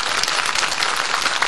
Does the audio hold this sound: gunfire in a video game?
no